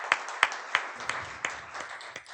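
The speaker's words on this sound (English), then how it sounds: "Let's give our candidates a round of applause" A small audience at a chamber of commerce state candidates forum claims hands for the candidates, a handful of sharp, evenly spaced claps standing out over soft scattered clapping that fades toward the end.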